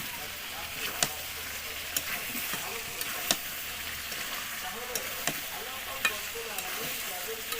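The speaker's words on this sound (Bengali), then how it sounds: "এখন আলুটা দিয়ে মাংসটাকে আরও কিছুক্ষণ ভালোভাবে কষিয়ে নেব" Beef with potatoes is stirred and browned in a pot for a homestyle beef curry, giving a steady low sizzle broken by regular sharp clicks of a spoon against the metal, close and fairly quiet, with no clear speech.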